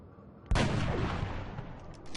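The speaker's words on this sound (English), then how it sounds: "the sniper has to shoot, so let's give him a crack at taking this guy out first" A sniper rifle fires in the XCOM video game: one sudden loud shot rings out after a brief quiet, its boom and rumble fading slowly over the following second and a half.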